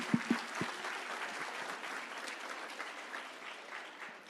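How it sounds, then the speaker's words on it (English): Applause from an audience at a youth closing celebration, a steady soft clatter of clapping lasting several seconds with a few sharper claps at the start, heard at moderate distance. "Y'all give everybody a hand of applause."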